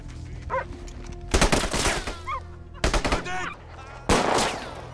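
Bursts of automatic gunfire from soldiers in a film set in wartime, several loud rattling volleys separated by short pauses, with faint voices and a dog's cries in between.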